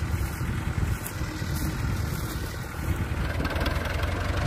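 A tractor engine idles nearby, a steady low rumbling chug that continues evenly throughout with no voices.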